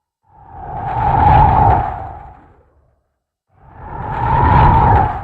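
A car crash effect, layered for impact in a vehicle pass-by, sounds twice as a heavy, rumbling burst that swells and fades, separated by a brief silence.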